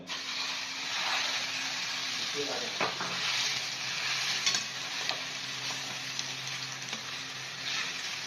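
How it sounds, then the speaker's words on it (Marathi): Seedless dates roasting in ghee over a very low flame, stirred steadily with a spoon, giving a continuous soft sizzle with scraping strokes throughout, close and fairly even in level. "तर हे एकदम मंद आचेवर व्यवस्थित हे भाजून घ्यायचे आहेत।"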